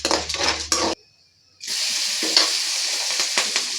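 Asafoetida hits hot oil in a tempering for avarekalu chitranna, a brief clatter, a short near-silent pause, then a steady close sizzle with light spattering pops.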